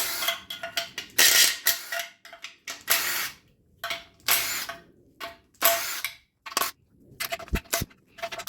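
Ratchet loosening 10mm oil pan bolts on a Toyota Venza 2.7L, a series of close, bursty clicking runs separated by short pauses, with occasional metallic clinks and no talk.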